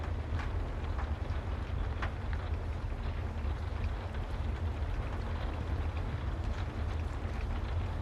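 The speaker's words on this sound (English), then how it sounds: "Listen to the sound of those engines." Heavy engines drone in a steady, loud low rumble that runs the whole time with no breaks, a dense continuous roar with no voices over it.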